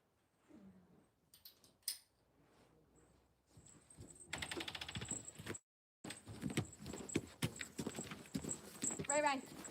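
Horse hooves clip-clop in uneven bursts, sometimes against mechanical clinks and rattles of harness being handled, close and fairly quiet, with a short silent gap partway through.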